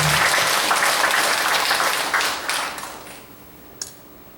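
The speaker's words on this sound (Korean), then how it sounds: "우리 성가대를 위해서 박수로 하나님께 영광을 돌리십시오" Broad crowd applause for a church choir fills the church, steady at first and then thinning out and fading, with a few scattered final claps near the end.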